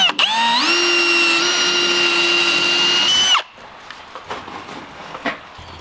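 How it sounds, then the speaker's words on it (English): A power drill whines steadily at high speed for about three seconds, its pitch rising as it spins up, then cuts off abruptly, leaving faint room noise. "I'm gonna drill a hole right here."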